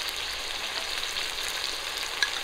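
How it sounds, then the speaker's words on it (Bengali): A spice paste with tomato, cumin paste and mustard paste fries in a pan for a pabda fish curry, giving a steady, moderately loud sizzling hiss with no talking. "টমেটোটা দেওয়ার পর আবারও কিছুক্ষণ ভাজা করে নেব"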